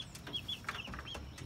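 Gamefowl stags and hens on a farm: soft, repeated clucks and short chirpy calls, close but quiet, over a faint outdoor background with no speech.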